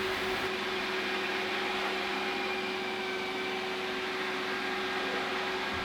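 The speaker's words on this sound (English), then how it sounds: "while the robot vacuum is moving around the room" A Eufy E20 robot vacuum cleans a room, giving a steady, fairly quiet whirring motor drone with a faint constant tonal whine and no voices.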